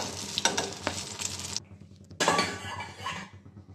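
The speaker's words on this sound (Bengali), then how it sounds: "এগুলো লাল লাল করে ভেজে নিতে হবে।" Brinjal pieces deep frying in oil for a besan curry, a dense broadband sizzle with stirring clinks that cuts out briefly midway, then resumes loud and close.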